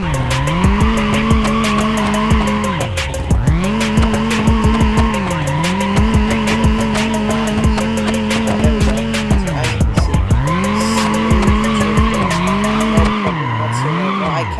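A car drifts around an open practice area in the BeamNG.drive driving game, its engine droning loudly and continuously while the tires squeal and skid in long sweeping waves, with no talking.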